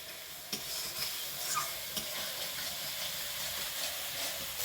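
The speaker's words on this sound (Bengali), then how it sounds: "তো এই মশলাটাকে ভালোভাবে কষিয়ে নিয়ে তারপরে কিন্তু ওই ভেজে রাখা আলুগুলো দিয়ে দেবো।" Spice paste frying and being stirred in a pan for a small pond-fish curry, a steady soft sizzle with occasional spoon scrapes, close and moderately quiet.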